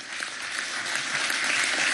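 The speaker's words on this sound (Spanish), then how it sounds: "un gran aplauso a estas mujeres" A crowd at a Venezuelan government event applauds steadily, a dense wash of clapping that holds at an even level.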